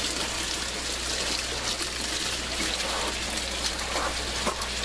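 Water flushing through aquaponics grow tower tubes, a dense steady splashing and trickling rush that stays loud and even throughout, with no voices.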